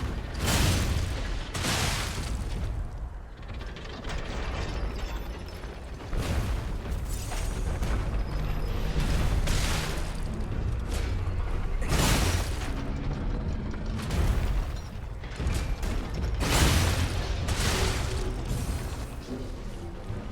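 Video game cannon firing in the background, heavy booming blasts recurring every couple of seconds amid clanking mechanical noise, fairly loud and with no voices.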